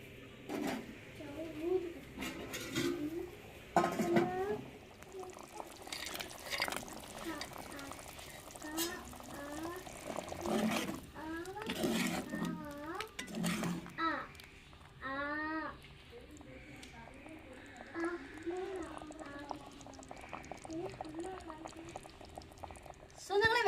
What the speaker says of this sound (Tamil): கொதிச்சுக்கிட்டு இருக்குங்க வெங்காய கார குழம்பு